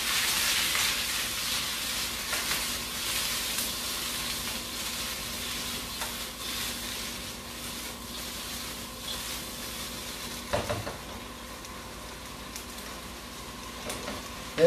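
Vegetables fry in olive oil for beef yakisoba, a continuous close sizzle with stirring scrapes and a few sharper clinks and pops.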